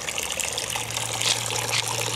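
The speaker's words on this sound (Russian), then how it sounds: "вот здесь у меня включается фонтанчик" A small garden fountain bubbles and trickles in a steady, continuous wash of water, close by, with no one talking.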